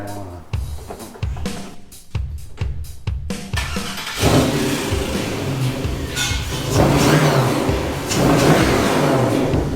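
A Chevrolet Corvair engine cranks and catches with sharp sputtering bursts, then settles into a steady, rough idle that revs up and down nearby.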